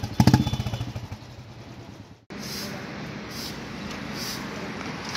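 Motorcycle engine revving outdoors, with a rapid pulsing burst at first that fades, then a steady, loud, droning engine run continuing to the end.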